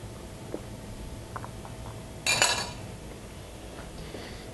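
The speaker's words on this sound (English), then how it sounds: "take this avocado, off its skin with a spoon" A metal spoon scrapes a ripe avocado out of its skin in a kitchen for Mexican-style shrimp cocktail: one short, close scraping clink in the middle, with a few faint taps around it on a quiet background.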